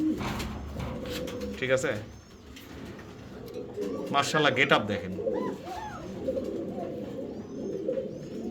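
A pair of black Mundian fancy pigeons coo softly and repeatedly near the microphone, with several people talking over them throughout.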